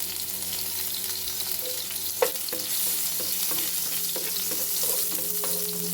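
Garlic fries in hot coconut oil in a pan, a steady, loud sizzle with occasional stirring scrapes and a single sharp knock, continuous throughout with no talking.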